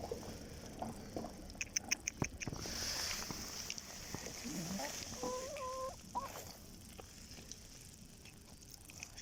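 Chickens clucking softly outdoors in Snowdonia at close range, with scattered short calls and chirps over a bed of ambient background noise.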